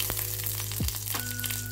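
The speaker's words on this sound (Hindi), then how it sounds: "तो पहले यहाँ पर मैं कुछ खड़े मसाले डाल रही हूँ" Whole spices (cinnamon, cardamom, cloves and black pepper) hitting hot oil in a pan, a brief steady sizzle with a couple of soft clinks.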